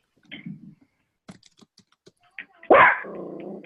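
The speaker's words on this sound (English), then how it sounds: "Whose dog is that?" A pet dog barks once, loud and close, breaking a quiet room that is otherwise filled only with soft scattered clicks and taps.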